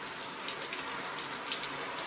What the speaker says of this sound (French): Ça fait du bien, la douche?